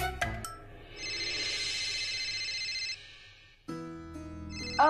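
A telephone ringing indoors at home, a single sustained electronic ring lasting a couple of seconds, with brief clatter and a short tonal sound before and after.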